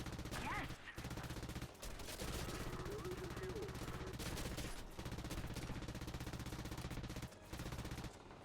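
A rear gunner in an interwar French aircraft in War Thunder fires 7.7 mm machine guns in long, dense bursts that last several seconds, broken by short pauses, loud and steady.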